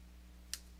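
Two crisp, faint computer mouse clicks spaced a fraction of a second apart, heard alone over a steady low electrical hum while selecting an option in a WordPress plugin.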